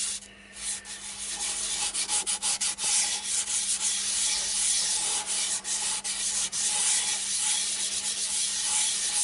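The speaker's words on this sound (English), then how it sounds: "work this in for a good couple of minutes with the lathe at a standstill preferably" Finish being rubbed by hand into a large walnut bowl on a stationary lathe: a steady, close scrubbing and rubbing sound with quick repeated strokes, continuous and fairly loud throughout, with no voices.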